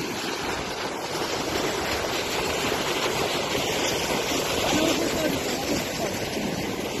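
Meltwater overflowing across a regional road near the village of Gornoe, where culverts cannot keep up, rushes as a steady, loud broadband roar close by, continuous throughout with no break.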